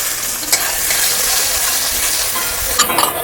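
Dried red chillies, bay leaves and whole cumin sizzle loudly in a hot kadai, a continuous crackling fry with occasional stirring scrapes, close and alone.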